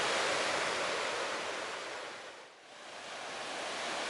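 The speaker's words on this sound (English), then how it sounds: "Look at it rushing over the rocks here." A lively waterfall in Mid Wales rushes over rocks, making a steady broad roar that dips briefly in the middle before swelling back, with no voices.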